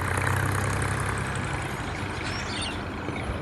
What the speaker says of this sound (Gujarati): ખેડૂત લોકો અત્યારે આમ તમે જુઓ ટ્રેક્ટર ચલાવી રહ્યા છે ખેતરમાં